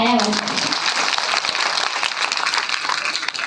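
Audience applause at a joint birth-anniversary celebration honouring Chhatrapati Shivaji Maharaj, Mahatma Phule and Dr. Babasaheb Ambedkar: dense, steady crowd clapping filling the whole stretch, following the tail end of a voice at the start.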